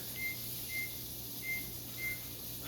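A kitchen timer sounds four short, evenly spaced high beeps, faint under a steady background hum while chicken saltimbocca cooks.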